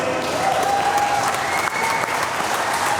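A large crowd at a political rally claps and cheers in a dense, continuous roar of applause, loud and close throughout.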